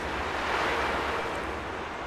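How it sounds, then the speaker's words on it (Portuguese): Strong wind in the video game Unravel blows as a steady, dense rushing roar that stays loud and constant with no talking. "Esta ventania"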